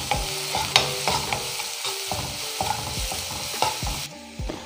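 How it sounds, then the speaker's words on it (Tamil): Chopped onion with salt sautéed in a pan for prawn thokku: close, rhythmic scraping stir strokes over a continuous sizzle, loud and alone, cutting quieter at the end. "உப்பு சேர்த்துட்டு இதை நல்லா வதக்கிடலாம்."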